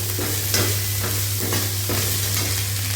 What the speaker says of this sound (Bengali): এবারে আমি এর মধ্যে গোটা গরম মশলা আর তেজপাতাটা দিয়ে দেবো